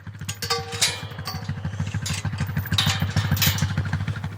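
A four-wheeler engine runs nearby at a low, steady idle, its rapid throbbing pulse mixed with faint rattles and clatter, with no talk over it.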